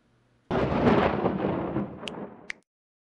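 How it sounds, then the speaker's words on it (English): A lightning strike in WorldBox lands as a sudden loud thunder crack that rumbles and fades over about two seconds, with two short sharp electric zaps near the tail before silence. "you're gonna need to select lightning, and you're just gonna want to strike them"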